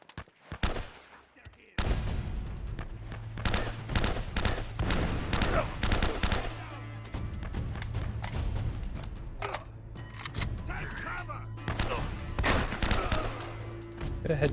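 Repeated bursts of gunfire and single shots from a shootout in the video game Uncharted: Drake's Fortune, loud and dense after a quiet opening, with a steady low game hum underneath.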